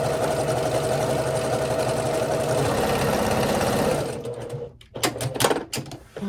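A sewing machine stitching a seam on a quilt block made from a herringbone quilt kit runs steadily and close for about four seconds, then stops and gives way to a few handling clicks and rustles.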